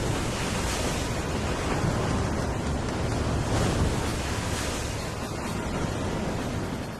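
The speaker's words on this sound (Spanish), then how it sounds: "Hombres, animales y plantas sufren la violencia del viento y del mar." Hurricane winds roar with surging sea waves in a broad, loud, unbroken wash of surf and gusting wind across the whole stretch, no voices present.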